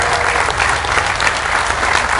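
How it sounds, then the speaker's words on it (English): An audience at a motorsports fan party claps loudly and continuously, a dense close wash of applause filling the whole moment with no speech over it. "Could you give JR a round of applause in the back there"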